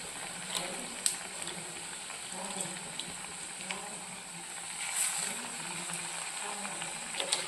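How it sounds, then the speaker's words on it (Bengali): Pumpkin pakoras fry in hot oil, making a soft, steady sizzle dotted with faint pops and light clinks, quiet and close with no one speaking. "পকোড়াগুলো ভেজে নেবো।"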